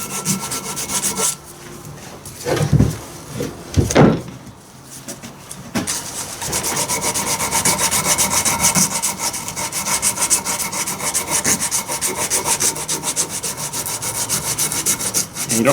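Sandpaper worked by hand over a metal backhoe part for a 110TLB tractor loader, with a few bumps and handling knocks first, then a long, close, continuous rasping scrub in rapid even strokes, fairly loud and with no voices.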